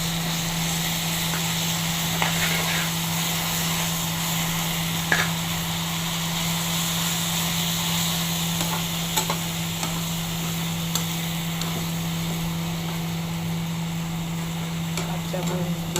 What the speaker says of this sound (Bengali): কাঁচামরিচ দিয়ে, পেঁয়াজ দিয়ে, বেশি করে রসুন দিয়ে পাট শাক ভাজি করতেছি